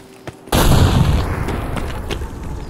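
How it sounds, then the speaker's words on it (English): A grenade goes off in Escape from Tarkov with one loud, close blast after a brief quiet moment, then a long rumbling decay that fills the rest of the moment. "That's a grenade, Ethan"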